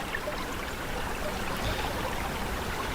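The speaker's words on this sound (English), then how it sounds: "right here you should be able to hear the creek." Continuous rushing of a partly frozen creek in snowy winter, a steady, even flow with no pauses or voices.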